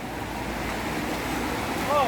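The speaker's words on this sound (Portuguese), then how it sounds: "Aí, se você não vai até a cachoeira vem até você." Floodwater rushes down a street like a waterfall after mountain rain, a steady broadband roar running unbroken from start to finish, with a voice surfacing briefly near the end.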